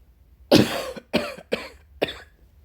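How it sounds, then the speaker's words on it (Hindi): A woman coughs four times in a row, close and loud, with short pauses between the harsh bursts and no talk over them. "शायद बोलने के कारण ज़्यादा खांसी आ रही है"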